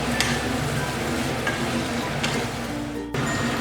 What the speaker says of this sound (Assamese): এইদৰে মাংসখিনি কিন্তু অলপ ভালদৰে ভাজিব লাগিব